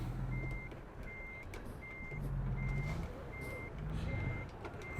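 A truck in American Truck Simulator backs into a tight parking spot, its reversing alarm beeping in a steady repeated rhythm over a low diesel engine rumble.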